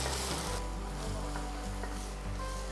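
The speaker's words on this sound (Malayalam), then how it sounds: "സവാള നമുക്കൊന്ന് വഴറ്റാം." Two chopped onions sauté in a pan for a chicken curry, giving a soft, steady sizzle with faint stirring sounds over a low background hum, quiet and without talk.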